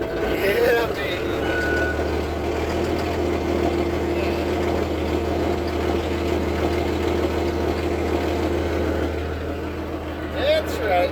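A farm tractor's engine runs close with a steady low rumble and rises as the throttle is pressed, while a faint beeping sounds and a person talks over it.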